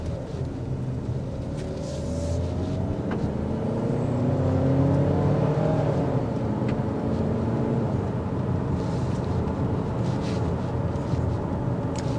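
A 2023 Hyundai Tucson N-Line under performance driving gives a muffled cabin engine hum that rises and falls through gear changes over a steady road rumble, moderately quiet with no talking.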